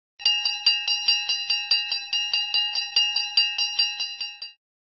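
A train bell clangs in a steady, fast rhythm of about twenty bright metallic strikes over four seconds, close and alone, then stops abruptly.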